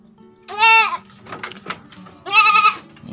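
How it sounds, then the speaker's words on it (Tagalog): A young buck goat bleats twice after a first deworming with a small ivermectin dose. The cries are loud, close and strained, with a short pause between them and some faint rustling. "Talagang dinadamdam ng kambing natin."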